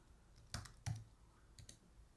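Computer keyboard keys clicking during a video-editing session for red-eye removal, a few separate quiet taps in an otherwise quiet room, with two firmer clicks close together and a couple of fainter ones after.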